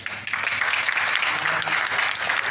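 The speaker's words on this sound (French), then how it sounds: "Kaya Oto, on applaudit pour lui." An awards-ceremony audience applauds the naming of the year's best rapper at a French rap trophies event, a dense, steady wash of clapping that runs loud and continuous throughout.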